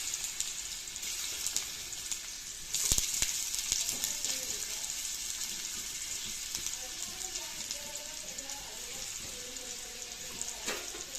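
Bitter gourd (karela) sautéing in a pan after mustard seeds, a soft continuous sizzle with scattered sharp clicks and stirring scrapes, faint and close, with no one speaking.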